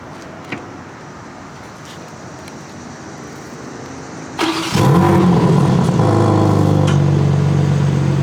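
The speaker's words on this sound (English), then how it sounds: "Let's get this thing a little bit of a cold start for you." After several seconds of quiet background, a 2024 BMW M3 CS engine cranks and fires on a cold start, settling into a loud, steady, rumbling idle close by.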